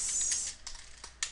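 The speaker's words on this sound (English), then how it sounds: "let's type something" Typing on a computer keyboard produces a few quick, close keystroke clicks, a brief burst at the start followed by scattered single taps in an otherwise quiet room.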